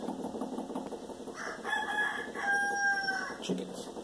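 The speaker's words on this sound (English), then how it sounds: "Chickens." Chickens clucking with a rooster crowing, faint and somewhat distant amid a low background hum, the crow rising briefly in the middle.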